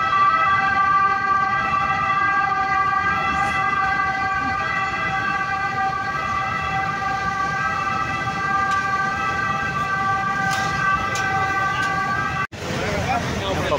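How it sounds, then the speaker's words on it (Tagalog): A loud ambulance siren in Naples, Italy holds a steady, piercing tone over passing traffic noise, then cuts off abruptly near the end. "Oh, ambulansya."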